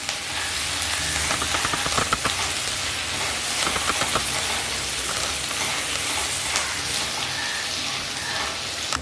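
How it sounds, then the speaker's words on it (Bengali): Onions and ridge gourd fry in a pan for a Bengali jhinge chingri dish, giving a steady, dense sizzle with fine crackling that runs unbroken and close throughout, with no voices. "পেঁয়াজগুলো একটু নরম করে ভেজে নিলাম।"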